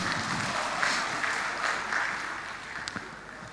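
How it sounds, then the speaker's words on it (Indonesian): Teachers at a National Teachers' Month seminar in Indonesia clap together in a steady round of applause that fades gradually, with a few sharper claps near the end. "Tepuk tangan dulu"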